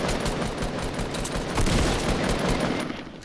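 Gunfire in the video game Fortnite: a dense, loud, continuous burst of rapid shots that fills the whole moment and fades slightly at the end.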